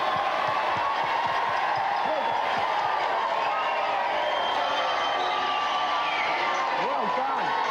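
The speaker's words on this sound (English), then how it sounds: "let's have a big round of applause for both of them" Studio audience applause on a TV games show, steady crowd clapping and cheering running the whole time with a presenter talking over it.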